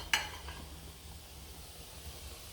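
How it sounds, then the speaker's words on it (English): Gumbo ingredients frying in a pot while being stirred, a soft, steady sizzle opening with a sharp clink of utensil against the pot, then quieter frying noise with no talking. "I'm going to start stirring. You see how it's frying?"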